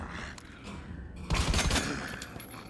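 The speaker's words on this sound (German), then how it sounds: "Ich mag die Schüsse." A quick burst of gunfire in the video game Resident Evil 2 erupts mid-clip, several rapid cracking shots close together, loud against a quieter, muffled background.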